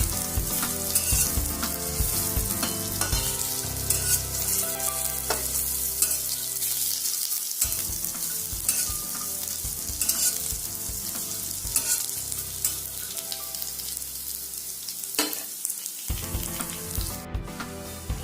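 Vegetables frying and being stirred in a hot pan until golden brown for goitha gundi pitha, a steady loud sizzle with scraping stir strokes throughout, brief pauses between stirs, no talking.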